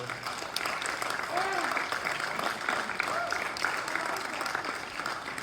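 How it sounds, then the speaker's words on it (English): An audience at the Austin High School awards ceremony applauds Miss Beth Johnson with steady, full clapping, while voices can be heard talking over it. "we definitely need to give Miss Beth Johnson a big round of applause"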